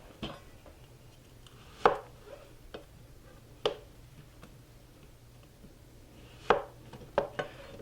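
A red onion is chopped with a knife, heard as a few sparse, sharp cuts on a board against a quiet background, with irregular gaps between strokes.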